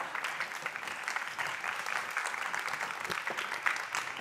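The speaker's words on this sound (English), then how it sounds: "you have to keep clapping" Continued audience clapping at an anti-corruption conference masterclass, a dense, even patter of many hands sustained for a few seconds at moderate volume, without speech over it.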